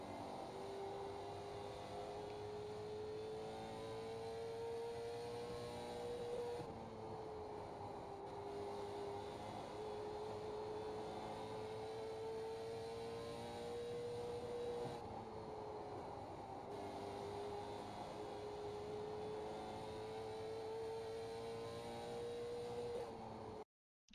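A late model stock car laps Five Flags Speedway in the iRacing sim, its engine a steady, loud drone that rises and falls in pitch through each corner for the whole lap, with no talk.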